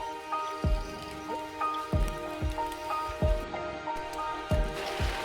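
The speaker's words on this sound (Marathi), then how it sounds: "2 दिवस झाले जोरदार पाऊस पडतोय" Rain falling steadily near a dam in the first monsoon showers, a soft continuous patter with irregular heavier drips and thuds landing close by, no voices.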